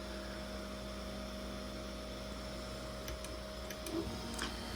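A Creality CR-6 SE 3D printer hums steadily with motor and fan noise while its nozzle probes the build platform during auto-leveling, with a few faint ticks and clicks near the end.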